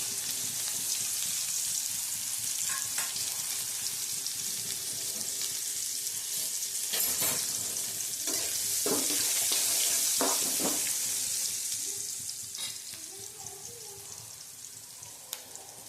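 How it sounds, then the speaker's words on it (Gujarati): Onions sautéing in hot oil with asafoetida, a steady close sizzle lasting throughout, punctuated by a few scraping stirs and brief clinks, fading somewhat toward the end. "હવે નાખીશું હિંગ નાખી અને આપણે ડુંગળી સાતરવા નાખી દઈશું"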